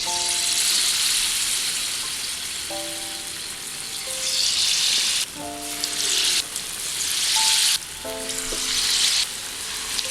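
Batter-coated sugain balls fry in hot oil with a dense, steady sizzle that swells in bursts as more balls drop in, while faint tonal notes sound in the background.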